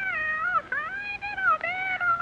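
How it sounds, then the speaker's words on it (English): Cat meowing as a sound effect in a Mickey Mouse Theatre of the Air radio drama, several clear drawn-out meows in quick succession, close and fairly loud, with no talk over them. "Look, Minnie, here comes the cat and the fiddle."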